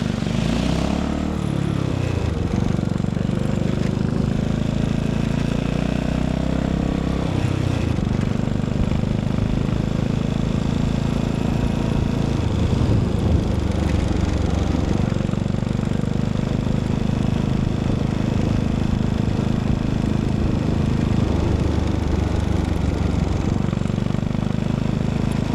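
A Yamaha SR400 cafe racer with an SC Project exhaust rides through a tunnel, its single-cylinder engine droning loud and steady with echoing rumble, revs rising and easing in several swells over the run, no voices.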